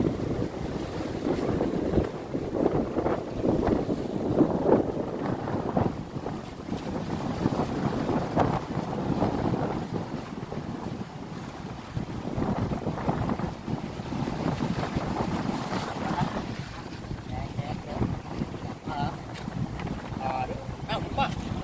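Passenger motor boat pounded by waves with its engine stalled: continuous buffeting wind and surging water with repeated heavy thumps, and voices talking intermittently over the din.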